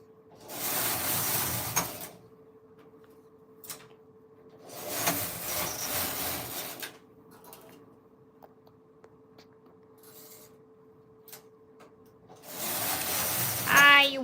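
A Silver Reed SK280 knitting machine knits a pattern from a punch card, with three loud rasping carriage passes separated by quiet gaps holding a faint steady hum and scattered small clicks.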